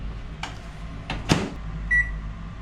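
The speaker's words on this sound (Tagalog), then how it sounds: "Oven" A kitchen oven set for baking a black forest cake gives a short, clear electronic beep near the end, following a few faint clunks and knocks of handling at the oven.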